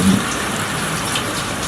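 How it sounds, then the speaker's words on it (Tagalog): Steady, dense rain hiss filling the space, loud and continuous with no pauses, water rushing down heavily nearby. "tuloy-tuloy na naman yung ulan hanggang ngayon"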